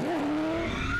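A 2JZ-powered drift car squeals its tires loudly at a drift event, a continuous sustained screech with a steady rising pitch over engine roar, close and alone for about a second.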